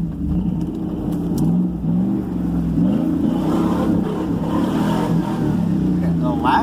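A Cadillac engine fitted with a new MSD ignition revs and runs loudly and steadily, its pitch rising and falling, while people talk over it.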